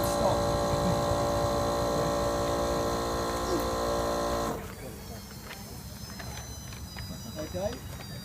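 A vacuum pump fills a water cylinder in a real-time water quality monitoring setup with a salinity meter. It gives a steady, close electric hum with layered tonal whine, then cuts off about halfway, leaving only quiet room background.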